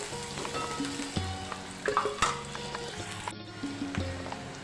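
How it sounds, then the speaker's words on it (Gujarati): Vegetables with capsicum sauté in a hot pan for pasta, a close, lively sizzle broken by repeated stirring clacks and scrapes of a spoon against the pan. "થોડી માટે તેને પણ સાતોઈ લઈશું"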